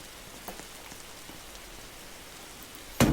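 Steady rain patters on surfaces in a horror survival video game, an even, moderately loud wash of drops with a few slightly heavier taps, ending in a sudden loud burst at the close.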